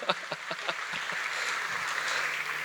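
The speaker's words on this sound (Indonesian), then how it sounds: "Kalian kasih tepuk tangan dulu ke Pak William." A summit audience breaks into applause, sparse loud claps at first that quickly merge into a dense, steady wash of clapping filling the hall.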